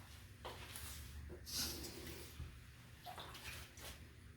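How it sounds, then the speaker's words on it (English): Water being poured into a pot while cooking a meal, a faint close splashing and trickling with a few brief bursts and soft clanks of kitchenware, with no talk. "Add a little bit more water."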